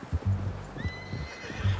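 A horse in the video game Red Dead Redemption 2 gives a high whinny over low hoof clip-clops and steady rumbling game sound, a short neigh standing out near the middle.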